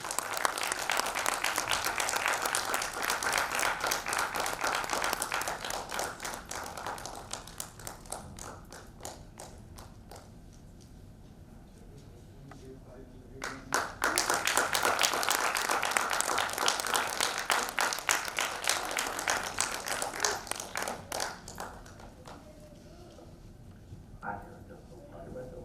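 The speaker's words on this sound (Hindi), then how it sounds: "एक बार जोरदार तालियां" Loud applause from an audience at a staged Sanskrit play production, sustained clapping that fades mid-way, then swells again in a second strong burst before tapering off.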